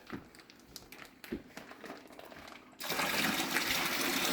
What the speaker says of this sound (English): I'm going to dump that into this bucket here.